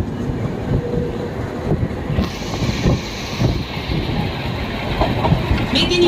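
Train rolling into Kharagpur Junction station in India, a steady loud rumble of carriages with rhythmic wheel clatter, heard from inside the coach with faint voices in the background.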